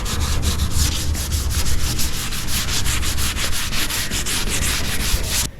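Sandpaper rubs by hand over a car fender in quick, regular back-and-forth strokes, loud and close, continuing steadily until an abrupt stop at the end.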